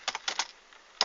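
Several quick clicks of a computer keyboard being typed on, soft and close, with a brief gap before one final keystroke, no talking.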